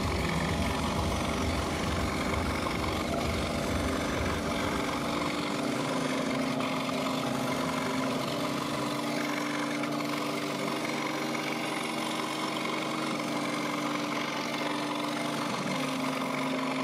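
A scroll saw cutting wood at its lowest speed for a wooden basket project, giving a steady motor hum with a continuous buzzing cut throughout, fairly loud and alone with no talk.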